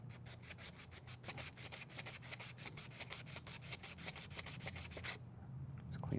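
Sandpaper of 350 to 400 grit rubbed over a small metal lock pick, rapid rhythmic scratching strokes repeated steadily and close, quiet overall, stopping near the end.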